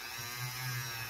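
A motor-driven buffing wheel polishes a bolt part from a CZ Scorpion Evo 3 pistol-caliber firearm. It makes a continuous low hum and buzz, steady and close, with no voices.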